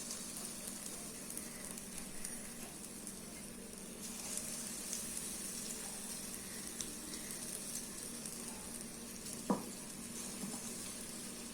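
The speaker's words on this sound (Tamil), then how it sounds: "இப்போ வந்து நம்ம ரவையை உருட்டி போட்டுடலாம் போண்டா மாதிரி." Semolina bonda balls fry in hot oil over a medium flame, producing a faint, continuous bubbling sizzle with a single sharp clink near the end.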